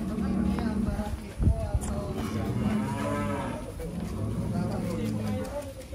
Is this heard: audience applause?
no